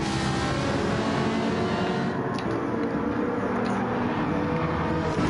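Racing cars accelerate after a restart in a BTCC race at Laguna Secca in a racing video game, a steady, loud engine roar that holds without pause throughout.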